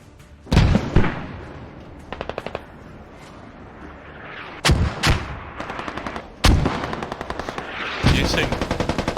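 Mortar fire and explosions in a competitive video game match as a radio is destroyed. Heavy booms come amid bursts of rapid machine-gun fire, loud and close, with a commentator's voice audible underneath.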